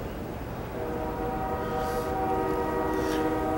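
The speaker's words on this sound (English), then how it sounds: "those train horns will sound frequently on these tracks in this area" A distant train horn sounds a sustained, layered tone that rings and echoes steadily under a low rumbling background.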